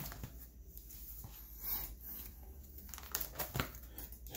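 Faint, close crinkling and rustling as Pokemon cards are handled and shuffled, with soft scattered clicks and scrapes throughout.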